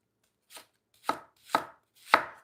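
Onion being chopped into small pieces on a cutting board for tuna croquettes: four crisp knife strikes, the first lighter and the rest firmer, evenly spaced in near silence, close up.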